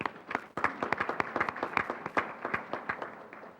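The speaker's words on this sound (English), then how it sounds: "Can we please give our sponsors a round of applause?" An audience at a 2013 fair housing summit gives event sponsors a round of applause: a steady, fairly quiet patter of many distinct claps from a modest crowd for several seconds.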